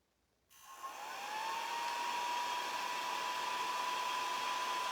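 A heat tool starts abruptly and settles into a loud, steady whine and rush of air, drying a vintage rustic Christmas craft ornament, with no voices.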